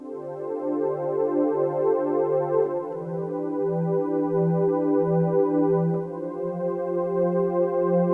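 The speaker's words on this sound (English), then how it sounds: "This choir sound I used a lot." Sustained choir pad from a Gaia 2 synthesizer plays slow chord changes bathed in reverb. The notes are held and smooth, moderately loud, and play alone without talk.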